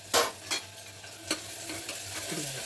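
Onion pieces and green chillies fry in a pan, a soft sizzle underneath a few sharp stirring clacks of a spoon against the pan, close and fairly quiet.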